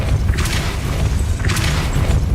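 The Depulso spell is cast in the video game Hogwarts Legacy, producing two heavy booming thuds with a rushing, whooshing burst, loud and close, over a low rumbling game backdrop.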